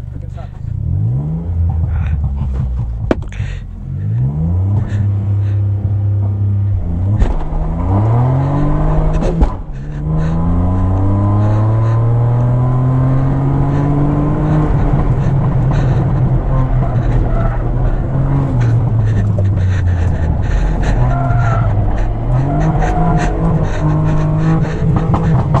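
A race car at a Hyderabad racing event accelerates away from the start, its engine climbing through repeated rising gear sweeps, loud and close, with people talking over it.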